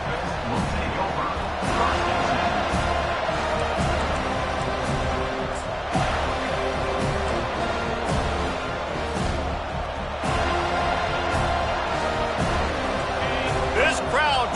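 A roaring stadium crowd at a Georgia vs Florida State college football game keeps up a steady, dense wall of noise, with a play-by-play announcer talking over it.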